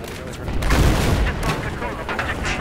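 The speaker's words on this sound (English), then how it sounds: "No, oh, that's a tank." A tank cannon booms in a Battlefield 4 Conquest match, a heavy blast followed by rumbling echoes and scattered gunfire, loud and close in the game mix.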